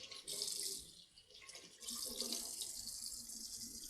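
A 1-inch polishing pad rinsed under running tap water, with a steady close stream splashing into a sink that briefly dips midway and then resumes.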